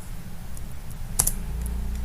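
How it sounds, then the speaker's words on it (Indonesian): Computer keyboard keys are tapped in a quick, steady run of close clicks while a command is typed, with one slightly louder keystroke partway through. "dengan mengetik perintah rename table identitas"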